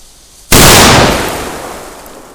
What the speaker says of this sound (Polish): Teraz również niedawno poznana petardka.